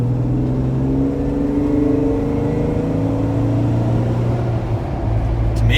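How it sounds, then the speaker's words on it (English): Jeep Wrangler 3.6 fitted with an aFe exhaust cruising at low revs, a steady deep bass engine drone with a low growl running continuously and fairly loud throughout. "It's got a good deep bass when you're kind of cruising at about"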